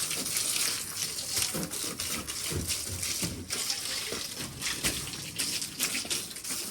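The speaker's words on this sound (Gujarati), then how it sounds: "રાહી હવે પાણી છાંટે છે" A garden hose sprays water across plants in a UK garden, a continuous rushing, hissing spray with uneven surges, loud and close, with faint voices now and then underneath.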